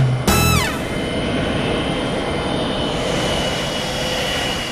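A Boeing 727 jet airliner roars loud and steady, its broad engine noise holding throughout after a short sharp burst at the start.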